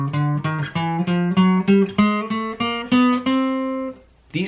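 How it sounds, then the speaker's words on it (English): Guitar picking a chromatic scale, about a dozen plucked notes in a steady rising run, each with a sharp attack and brief ring, ending with a short pause and a faint final pluck. "And sound like this on the guitar."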